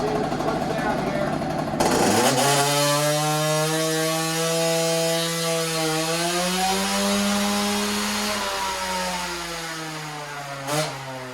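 2007 KTM 50SX two-stroke engine revving up on a dyno pull, a loud buzzing whine that climbs steadily in pitch over several seconds, holds near the top, then drops off as the throttle closes.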